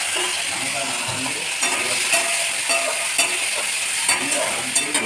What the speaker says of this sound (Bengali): আমার চিংড়ি মাছ ভাজা হয়ে গেছে